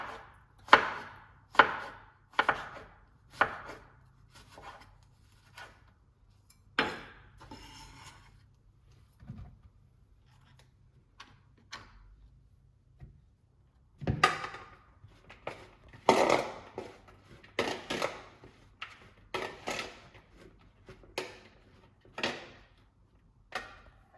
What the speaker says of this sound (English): So it will take a little while to cut all the eggplants into pieces.